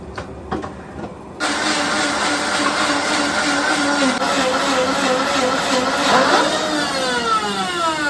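A kitchen mixer grinder (mixie) whirs up after a quiet start, running loud and steady with a humming motor tone that shifts in pitch near the end.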